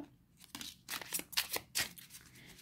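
Tarot cards are shuffled close up before a draw, with a series of crisp riffling and flicking bursts at an uneven rhythm, quiet and alone.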